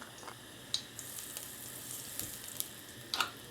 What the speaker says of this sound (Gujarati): ફ્રાય બરી ગઈ છે તો હવે આપણે નાખી દઈએ થોડી હિંગ.